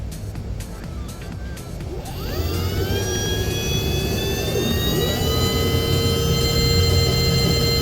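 Electric motor with a hall sensor spins up from a low hum into a rising, steady whine with tonal overtones that climb and then hold at high speed.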